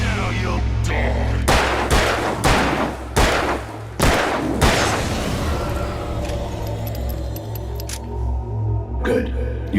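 Pistol shots in Alan Wake, about half a dozen sharp, loud cracks fired in a quick uneven sequence early on, then a quieter stretch with a low steady background hum and sparse faint sounds.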